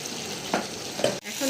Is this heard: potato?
yes